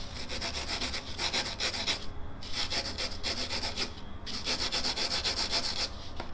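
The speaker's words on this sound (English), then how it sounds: "take a small piece of sandpaper and then roughing like that slowly" A small piece of sandpaper is worked slowly by hand over a polyurethane foam sculpture, making close, continuous scratchy rubbing strokes in a steady back-and-forth rhythm, with two short pauses between passes.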